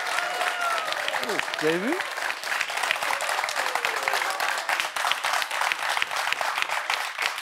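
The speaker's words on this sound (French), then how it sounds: "je ne me souviens pas d'applaudissements aussi nourris" Sustained applause from a French quiz-show studio audience fills the whole stretch, dense and steady, with a speaker's voice rising over it near the start.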